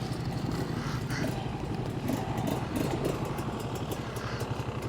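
Kawasaki KLX 300 dual sport motorcycle riding an off-road trail at Brown Mountain OHV, its single-cylinder engine chugging steadily up close with the clutch feathered, a rough, pulsing drone mixed with clattering over uneven ground.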